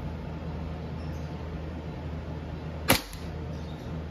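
A WE Airsoft 1911 Type B full-metal pistol fires one sharp, brief shot partway through, standing out against a steady low background hum with no other distinct sounds.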